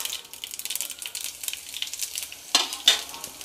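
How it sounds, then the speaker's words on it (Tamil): Neem flowers fry in ghee over a low flame for a traditional mango and neem flower dish, giving a steady, close crackling sizzle broken by two louder stirring bursts toward the end. "இதில் பக்குவமே இந்த நெய்யில் இந்த வேப்பம்பூ வறுபடுறது தான்."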